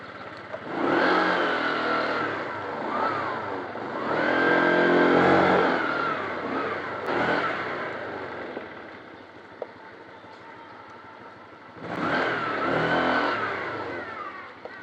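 A Honda Click scooter engine revs up hard three times, its buzzing whine swelling and falling back to a steady idle between the bursts.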